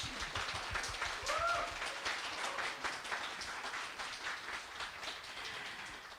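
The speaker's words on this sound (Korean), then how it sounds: "큰 박수로 모시겠습니다" Audience applause at a university campus talk event as the university president is welcomed to the stage: a steady, sustained crowd clapping that holds at a moderate level for the whole stretch.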